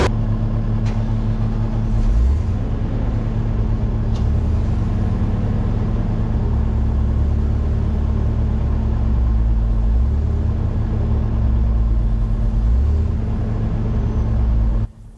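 A wood chipper's engine runs at a steady, loud rumble near a felled white oak, with a few heavier surges as its clutch is engaged before the sound cuts off abruptly at the end.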